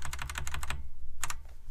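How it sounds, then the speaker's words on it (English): Rapid burst of computer keyboard keystrokes as control and arrow keys are pressed, a quick run of close clicks followed by a short pause and two more taps. "you could just hold control and you can use your arrow keys"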